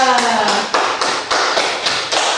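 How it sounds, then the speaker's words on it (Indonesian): A classroom group gives a short burst of applause for a student team, claps close and rapid, with a brief voice at the start. "Kita beri aplaus"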